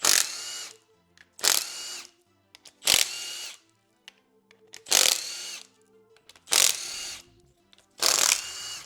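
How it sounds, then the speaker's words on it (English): Power tool used on the oil pump cover of a junkyard LH6 engine during a teardown: six separate loud, buzzing bursts about a second long, evenly spaced, with quiet gaps and faint clinks between them. "I'm going to go ahead and take the cover off this oil pump"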